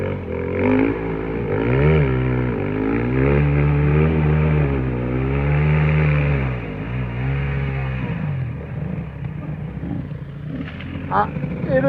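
An enduro motorcycle engine labours up a nearly impossible steep hill at an extreme enduro championship in Garbes, revving hard with a pitch that rises and falls and sustained roaring, then breaking into rough, uneven sputters and clatter near the end.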